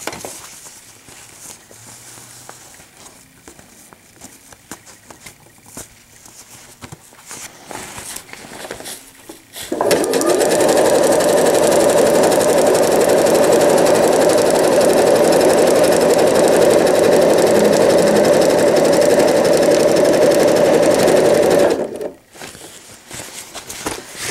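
A sewing machine stitches a pail liner in one steady, fast, loud run of about twelve seconds, preceded by quieter handling noise and ending abruptly.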